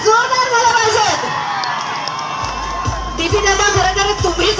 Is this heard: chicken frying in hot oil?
no